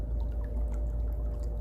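Water pours up through the floor of a flooded, abandoned factory, from a spring or broken pipe. It makes a steady, low, gushing rush with faint drips, unbroken and fairly quiet throughout.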